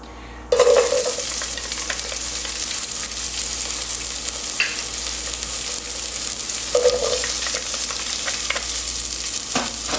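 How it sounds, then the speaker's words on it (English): Onions sautéing in warm oil for tomato soup give a steady, loud sizzle that jumps up as they hit the pan and carries on evenly with brief stirring scrapes. "we're just going to let the onions start to saute and caramelize"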